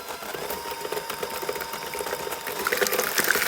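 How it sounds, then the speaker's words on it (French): An electric mixer whirs steadily while beating five eggs with sugar, a continuous close mechanical buzz that grows slightly louder and busier toward the end, with no talk. "Je viens mélanger tout ça au batteur."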